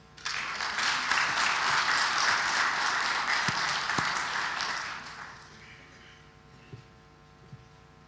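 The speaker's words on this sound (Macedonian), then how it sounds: "сите заслужуваат еден голем аплауз." Audience applause at a corporate awards event, a dense burst of clapping from a large crowd that fades out after about five seconds, leaving a quiet room hum with a few faint thumps.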